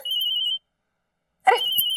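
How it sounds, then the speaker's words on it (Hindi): A telephone ringing with a bright electronic trill, one burst, a pause of about a second, then a second burst starting, alone with no talk. "अरे फोन आ रहा है भाभी का।"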